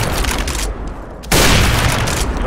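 In a CS:GO match on the Cache map, a loud grenade explosion bursts suddenly amid rattling gunfire, a dense fusillade that crackles on before and after the blast.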